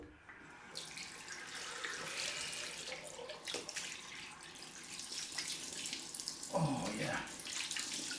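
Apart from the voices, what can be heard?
water tap running for a cold rinse after shaving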